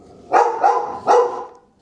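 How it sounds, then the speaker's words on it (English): A dog barks three times in quick succession, loud and close, with a brief pause before the last bark and no talking over it. "Dog's going crazy."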